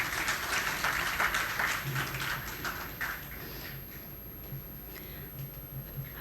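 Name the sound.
audience applause welcoming a guest on stage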